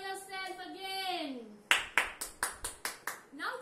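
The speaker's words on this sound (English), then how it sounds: "Clap for yourself again." A group of young children claps together in a classroom, a steady run of about eight crisp claps in rhythm after an adult voice speaks.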